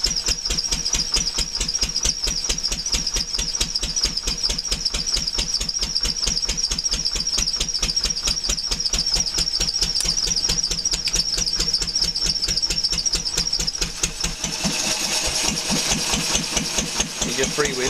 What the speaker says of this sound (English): the belt's slipping a little bit. The belt's a bit too small for the pulley on the motor.